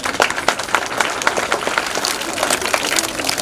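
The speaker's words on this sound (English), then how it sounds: "Can you please clap all of you?" An audience at a school Independence Day celebration claps steadily, a dense, fairly loud patter of many hands that continues for several seconds without pause.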